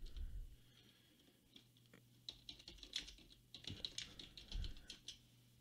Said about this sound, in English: you can type